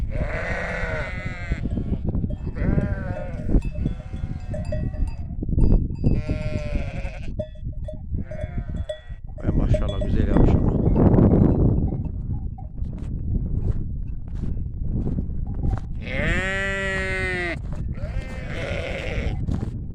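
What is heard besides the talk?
sheep bleating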